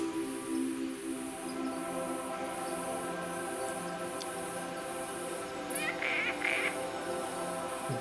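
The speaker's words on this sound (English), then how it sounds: "Hear all these frogs up and down the river." Frogs call up and down the Delhunty River beside a paperbark swamp in Cape York, a steady chorus of overlapping croaks and trills at moderate distance, with a few brighter chirps near the end.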